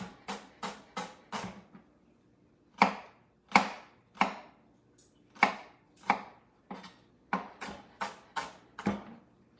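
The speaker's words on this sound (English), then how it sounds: "you're gonna cut new little fingers in the onion" A kitchen knife chopping an onion on a cutting board, sharp rhythmic cuts in quick clusters separated by short pauses, close and distinct, with no talking.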